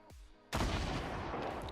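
A grenade launcher fires in a video game with one sudden, loud blast that rolls into a sustained, noisy rumble, with no speech.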